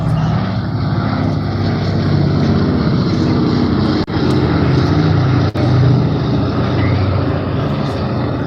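At the 2018 Bournemouth Airshow, the vintage aircraft Sally B flies past with a loud, continuous propeller-engine drone that fills the whole stretch almost unbroken.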